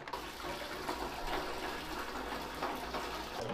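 Water pours steadily into a bucket of ice for an ice bucket challenge, a continuous close splashing rush that fills the short moment without any voices.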